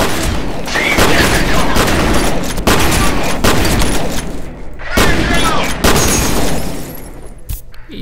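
Loud, dense gunfire from the shooter video game F.E.A.R., including shotgun blasts, with heavy repeated bursts and booms filling the whole stretch under shouting players.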